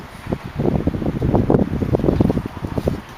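A 1914 car engine with dual carburetors and direct linkage idles close by, slightly fast, with a dense, throbbing low rumble that pulses unevenly, alone, with a whooshing hiss like wind over the microphone.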